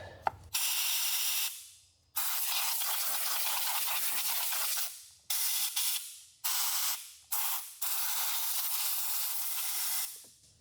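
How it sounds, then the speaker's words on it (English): Compressed air blasting debris out of the spark plug wells of a 2010-2015 Chevrolet Volt engine: loud, close hissing bursts, one long blast followed by several shorter ones with quiet gaps between. "let's get some compressed air and blow all that out of there"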